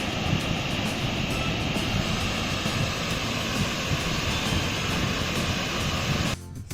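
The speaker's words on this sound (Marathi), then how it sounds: "पाण्याच्या प्रवाहाचा वेग बघा किती जोरात आहे" A fast-flowing, flood-swollen river rushes past in a loud, steady, close roar that fills the whole stretch before cutting off at the end, with no voices over it.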